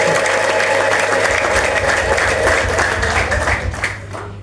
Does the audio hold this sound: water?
no